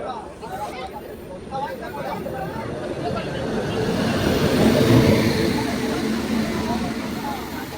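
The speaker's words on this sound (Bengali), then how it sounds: "ডানকুনিতে মালগাড়ি ওভারটেক করাচ্ছে অমৃত ভারত সুপারফাস্টকে দাঁড় করিয়ে রেখে" A goods train overtakes the stopped Amrit Bharat Express at Dankuni, with a steady, close rail rumble that swells toward the middle and eases off. Voices and chatter from passengers run throughout.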